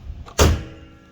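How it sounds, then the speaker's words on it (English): The hood of a 1999 Nissan Sentra B14 slams shut in a single loud, close thud with a short metallic ring, followed by quiet. "let me close the hood so you can see how it looks with the hood closed"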